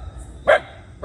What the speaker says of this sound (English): there is also so many dogs outside of my home